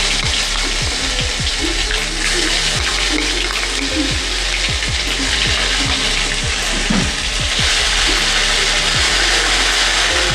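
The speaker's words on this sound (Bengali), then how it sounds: "তো তেলের মধ্যে দিয়ে দিচ্ছি আদা রসুনের পেস্টটা।" Ginger-garlic paste frying in a small amount of oil for chili soybean, giving a dense, steady close-up sizzle with scattered scraping and stirring ticks throughout.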